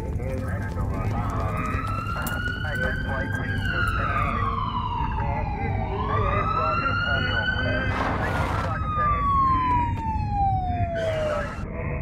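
A police siren sounds in a Christmas horror video game, a wailing tone that rises and falls several times over background game noise while a person talks.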